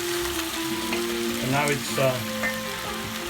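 Dinuguan, a Filipino pork blood soup, cooks in a pan with a steady close sizzle and bubbling, while stirring makes a few soft scrapes against the pan and someone talks over it.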